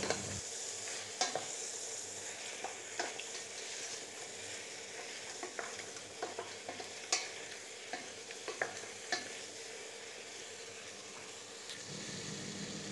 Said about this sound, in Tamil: இது எண்ணெயில் நல்லா புரட்டி விட்டுறணும்